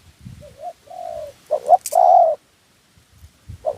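A large dove gives a few short, rounded coos during a dove-calling contest, near and clear, with quiet gaps between phrases and faint background rustle.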